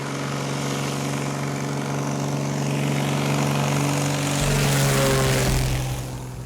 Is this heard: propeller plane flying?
yes